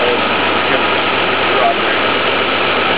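A 1998 Honda Passport 3.2L engine with an abnormal noise runs steadily at idle, a loud, continuous mechanical drone with no voices.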